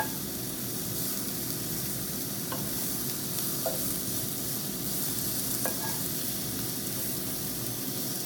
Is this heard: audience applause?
no